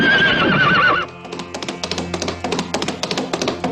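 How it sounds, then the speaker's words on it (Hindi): A mare gives one loud, wavering whinny lasting about a second, followed by a run of irregular hoof clip-clops close by with no voices. "मेरी घोड़ी मिल गई, मेरी बिजली मिल गई"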